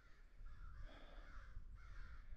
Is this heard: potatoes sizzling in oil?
no